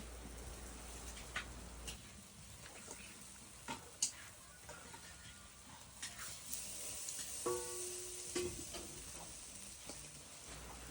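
Pork belly grills over an outdoor fire on a farm, giving faint, steady sizzling with scattered crackles and pops and a soft background hiss.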